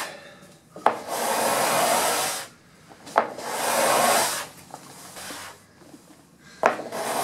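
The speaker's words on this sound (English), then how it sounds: "So here I am scraping" Hand scraper drawn across wood in a woodshop, three long rasping strokes, each opening with a sharp catch and separated by brief pauses, close and fairly loud.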